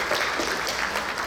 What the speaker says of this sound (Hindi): प्रभाकर जी के लिए एक बार जोरदार तालियां।